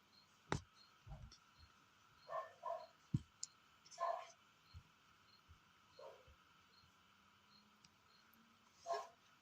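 A dog barks in the distance, several short separate yaps spread unevenly over a quiet background, with small clicks in between.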